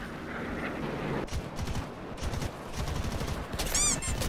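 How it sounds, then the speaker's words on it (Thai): Aircraft guns fire in the combat flight game War Thunder: rapid bursts of machine-gun fire, loud and close, in several clusters amid engine roar. "แล้วก็ยิงไปก่อนเลยนะครับเผื่อโดน"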